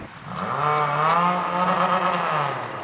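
Several cars revving at a distance, a steady engine drone with wavering harmonics that swells and holds for a few seconds, with no voices heard.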